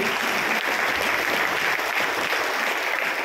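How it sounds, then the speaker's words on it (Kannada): Audience applause at a book launch event, a dense, continuous clapping from a crowd filling the whole stretch at steady loudness. "ಅವರು ಡಿಸರ್ವ್ಸ್ ಆನ್ ಅಪ್ಲಾಡ್. ಚಪ್ಪಾಳೆ ಹೊಡಿ."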